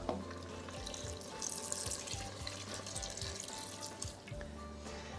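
Stock pours into a Calphalon pressure cooker holding chopped onion, garlic, tomato paste and thyme for stew, a steady close splashing liquid stream that runs continuously without talk.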